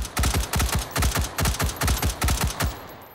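Rapid automatic fire, about a dozen sharp shots in an even rhythm, from a weapon shot into the sky in the VR game Hot Dogs, Horseshoes & Hand Grenades. The burst is close and loud with no talking.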